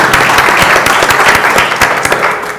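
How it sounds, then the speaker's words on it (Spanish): A conference audience at a 2014 labor-relations forum applauds as panel speakers are introduced: continuous, full applause with crisp individual claps throughout, loud and close. "Un aplauso para él esta mañana también."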